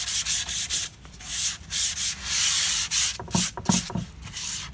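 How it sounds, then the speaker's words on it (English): Hand sanding with 220 grit sandpaper over a painted sign surface, a steady series of scratchy rubbing strokes in bursts with short pauses, close and fairly loud, no talking. "So I'm taking some 220 grit sandpaper and lightly sanding the"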